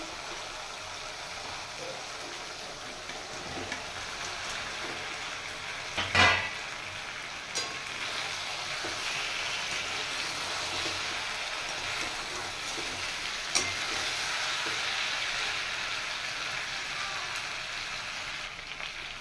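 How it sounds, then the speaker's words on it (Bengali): Fried catla fish pieces and potatoes added to a masala cooking in oil give a steady, moderate sizzle throughout, with one brief louder clatter early and a faint tap later. "এবার আমি ভেজে রাখা মাছ আর আলু দিয়ে দেব।"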